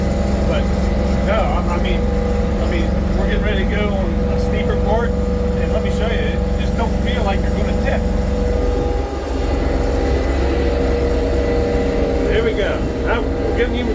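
An LS MT232 tractor engine drones steadily while bush hogging a rough field, a constant nearby hum that runs under intermittent talking.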